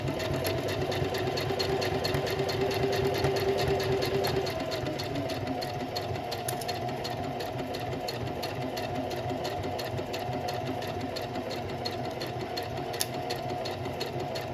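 A sewing machine stitching a slouchy tote bag hums steadily at close range, with a rapid mechanical chatter that eases slightly in pace partway through, and no talk.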